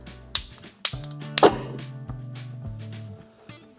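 A homemade egg cannon fires an egg in a sharp test shot, a loud whack-like burst among a few percussive knocks, followed by a low sustained hum and rattling.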